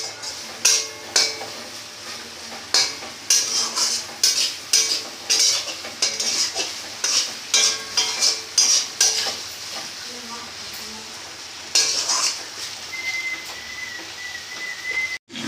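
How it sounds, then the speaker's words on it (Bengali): Fried prawns stirred through a spicy masala in a pan for an aloo potol chingri curry, with repeated scraping strokes in an uneven rhythm over a steady sizzle, plus a faint high whistle near the end. "ভেজে রাখা চিংড়ি মাছটা আমরা দিয়ে দেবো মশলাতে"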